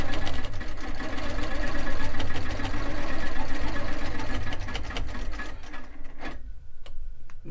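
Long arm quilting machine stitching across binding, a fast continuous mechanical needle chatter up close that stops near the end, leaving faint clicks.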